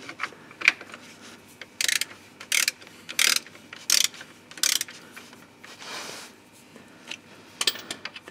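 Ratchet working a bolt on the oil pan of a Peugeot 307, several bursts of close, crisp clicking separated by short pauses.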